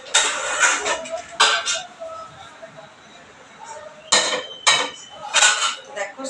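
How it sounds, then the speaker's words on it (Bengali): A saucepan and cups being set down while preparing tea, heard as a few sharp clinks and clatters of dishes in separate bursts with quiet pauses between them. "দেখো সসপ্যান বসিয়ে দিয়েছি, কাপ নিয়ে নিয়েছি।"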